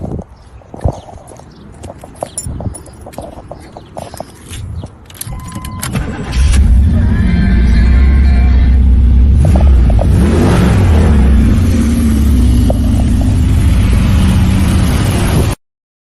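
A port fuel injected Camaro at a muscle car show fires up after a few quieter clicks and handling noises, then its engine settles into a loud, steady roar with revving that runs close and unbroken to the end.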